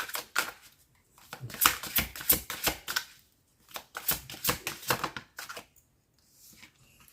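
Tarot cards are gathered and riffled for a new reading, giving close, crisp bursts of rapid flicking in two main runs separated by a short pause, then a faint rustle at the end.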